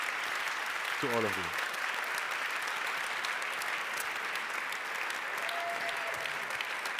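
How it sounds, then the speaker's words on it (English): Audience applause for the competing teams at an energy-transition award ceremony and evening reception, a steady sustained clapping wash throughout, with a brief spoken phrase over it near the start. "I really want you to give a big round of applause for the teams again"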